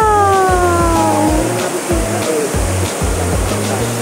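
Outdoor stream flowing at close range: loud, steady rushing water, overlaid by rhythmic low thumps and a few falling tonal whines.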